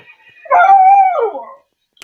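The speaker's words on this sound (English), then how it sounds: "Wow, that dog is loud." A pet dog, a young puppy, lets out one loud, close howl lasting about a second, with a wavering pitch and a short yip at the end. No voices are present.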